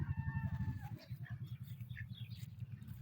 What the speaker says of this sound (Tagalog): naghahanap buhay na naman mga itik ko